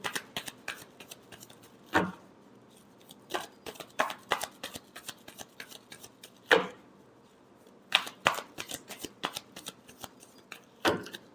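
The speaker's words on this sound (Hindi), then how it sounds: "last shuffle" Tarot cards are shuffled by hand, a series of sharp papery riffles and slaps in uneven bursts, close and alone with short quiet gaps between them.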